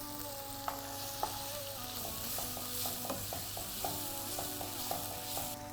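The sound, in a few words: shrimp with lemongrass frying on full flame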